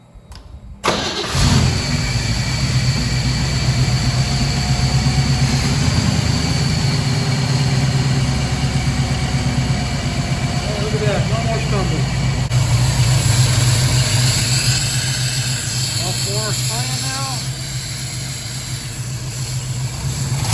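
A 1969 Pontiac Firebird V8 with Holley Sniper fuel injection cranks briefly, catches and settles into a loud, steady idle that runs close and alone throughout, with faint intermittent squeals over the engine.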